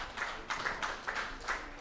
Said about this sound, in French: let's put our hands together